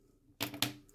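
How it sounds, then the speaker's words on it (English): Two quick, crisp snips of scissors cut a crochet yarn tail close to finished work, sharp and near in an otherwise quiet moment. "snip that again"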